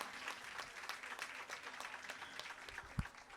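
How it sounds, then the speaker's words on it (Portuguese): A round of applause from an outdoor audience at a street literary festival, many hands clapping in a dense, continuous patter heard from some distance, fairly quiet overall with one sharper knock near the end. "Começar com uma salva de palmas para o Simas"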